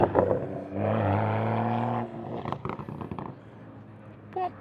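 A Toyota Supra on a racetrack gives a close, humming engine drone for about a second before fading into scattered rumbles and knocks.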